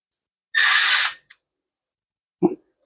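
A variable speed drill whirs in one short, loud burst close by while driving bolts on a Poulan Pro chainsaw during a fuel system rebuild, followed by a faint click and a brief low knock.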